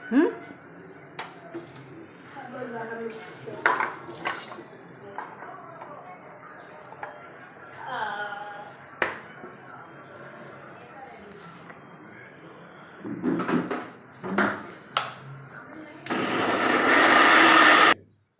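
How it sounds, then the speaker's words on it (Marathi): Someone talks amid clinks and taps, then a mixer grinder whirs loudly for a couple of seconds near the end, grinding coriander and dal chutney. "आता मी मिक्सरला लावते."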